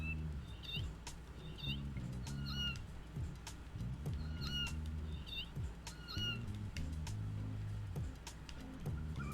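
Cat meows in a Nintendo Wii U game sound out repeatedly in short, clear cries over steady game music and background hum.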